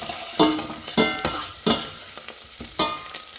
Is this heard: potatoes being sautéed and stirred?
yes